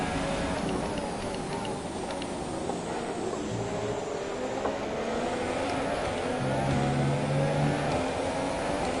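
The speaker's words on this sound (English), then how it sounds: "Lewis leads the opening lap of the Belgian Grand Prix." Formula 1 race cars from the F1 2017 video game at the Belgian Grand Prix, a steady loud engine drone with shifting tones lasting throughout, as from a car at speed on track.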